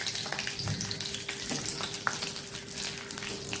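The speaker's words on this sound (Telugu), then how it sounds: "జీడిపప్పు వేయించుకుంటుంది" Cashew nuts fry in hot ghee, a close, steady fine crackle and sizzle with occasional light stirring clicks and a faint low hum underneath.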